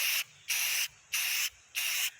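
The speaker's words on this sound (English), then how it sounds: "So I'm going to spray paint this." A spray can paints a camper's tongue in four short hissing bursts of about half a second each, separated by brief pauses, close and crisp with no talking.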